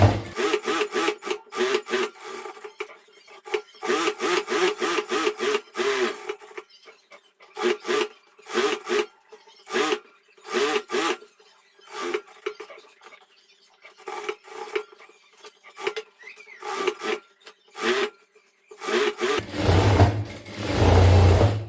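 Sewing machine stitching a chudidhar, running in repeated bursts of rapid mechanical whirring separated by short pauses, close and fairly loud.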